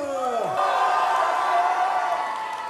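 A crowd at the Mang'Azur 2025 cosplay contest cheers and applauds, with sustained whoops and voiced shouts over a constant wash of clapping, loud and close, after a brief falling vocal cry at the start.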